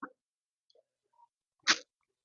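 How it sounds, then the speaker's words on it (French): A single sharp sneeze bursts out near the end, preceded by a short intake of breath and a few faint small sounds in near silence. "Attention, je vais éternuer."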